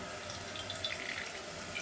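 Water runs steadily from a tap over gongura leaves as they are washed before cooking a mutton curry, a close, continuous splashing flow with no talk.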